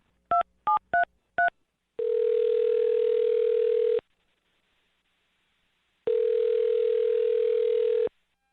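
Telephone call placed: four quick touch-tone dialing beeps, then two long steady ringback tones separated by silence, loud and clear with no talk.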